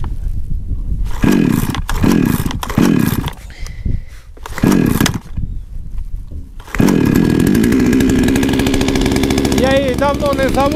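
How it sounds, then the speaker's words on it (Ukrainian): A chainsaw cutting oak firewood revs in short bursts with pauses between them, then settles into a long, loud, steady roar as the blade bites through the log. "зараз дубочка почали, попробуємо, як воно пиляється"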